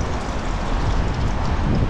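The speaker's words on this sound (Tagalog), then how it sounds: "Sobrang hangin po" Strong wind gusting at a riverside while fish fry outdoors, a steady broadband roar that stays loud and unbroken throughout with no voices.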